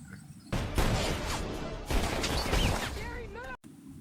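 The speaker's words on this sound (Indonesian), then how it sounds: "Burrell pun menembaki si Jerry dan Edo, hingga Jerry pun harus tewas ditembaki" Gunfire from an action scene in The Last Stand cracks out in dense, loud bursts, mixed with film sound effects and ending in a sudden cut.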